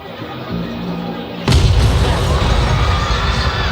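A building explodes: a sudden heavy boom erupts after a low rumble, followed by a sustained roaring blast and crackling debris, loud and close.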